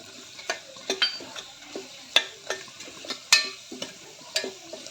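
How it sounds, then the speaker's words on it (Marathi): Ground spices, including coriander and red chili powder, are stirred in oil in a pan for khichdi, with regular sharp spatula taps against the metal over a faint sizzle, close by. "छान तेलामध्ये हे सगळे मसाले परतून घ्यायचे."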